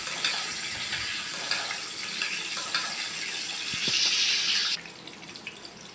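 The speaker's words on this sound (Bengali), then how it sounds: "তেলের মধ্যে আমি এলাচ, দারচিনি আর তেজপাতা ছেড়ে দিলাম।" Whole cardamom, cinnamon and bay leaves dropped into hot oil, giving a bright continuous sizzling hiss that swells louder near the end and then cuts off abruptly.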